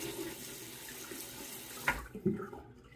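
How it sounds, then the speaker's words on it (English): Tap water runs steadily into a sink to wet a Dollar Tree Assured store-brand razor, then breaks off with a couple of splashy clinks before falling quiet. "I'm gonna wet the razor now."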